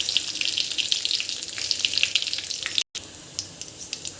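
Mustard seeds, cumin, urad dal, curry leaves and chili flakes sizzle and crackle steadily in hot oil, a close, dense frying hiss with scattered pops, briefly cut off by a near-silent gap before the sizzling resumes.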